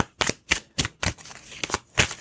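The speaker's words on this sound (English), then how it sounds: "I still read even though I'm cutting the cards to shuffle." Tarot cards are cut and shuffled by hand with a rhythmic series of about eight crisp riffling slaps, close and distinct, evenly spaced with short pauses.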